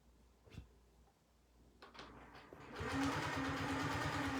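Sewing machine stitching a square-in-a-square quilt block, starting after a couple of soft handling knocks and then running in a steady, fast, near whir that fills the last half, no talking.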